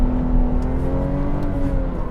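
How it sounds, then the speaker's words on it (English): A BMW 340i spins its tires on a race track, giving a loud, sustained engine drone that stays steady and near, with a faint tire whine running through it. "I love how easy it is to light up the tires with this"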